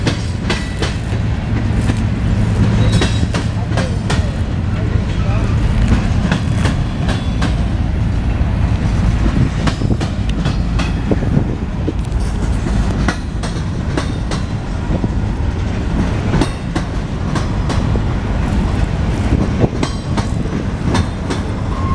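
A freight train hauled by foreign-built locomotives rolls past on rails in Alabama, a loud, steady rumble with rhythmic clickety-clack of wheels over rail joints, continuous and close throughout.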